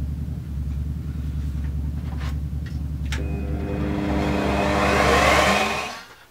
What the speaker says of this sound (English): I've decided to cheat for the rest of it and do it with a router